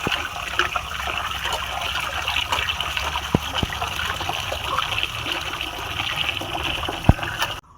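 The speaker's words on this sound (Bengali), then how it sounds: "এবার মাছটা ধুয়ে নেব" Water runs and trickles steadily over cut lote fish being washed by hand, with soft splashes and occasional faint knocks, close and continuous.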